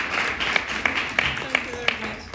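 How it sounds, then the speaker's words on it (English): Sparse clapping from an audience at a feminist forum speech: a handful of distinct, fairly soft claps spaced out over a couple of seconds, with a low murmur behind them. "I think we can applaud you once again"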